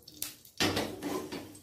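A large metal kadai clanks onto a kitchen stove as it is set down, a sharp close metallic clatter followed by a short scraping rattle.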